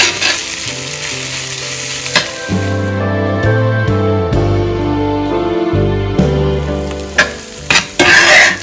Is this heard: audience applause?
no